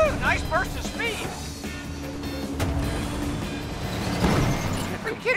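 Lightning McQueen's engine roars through a speed burst in the Cars 3 Driven to Win racing game on a Go Go Tokyo track, a steady loud motor drone with game effects and a voice talking over it.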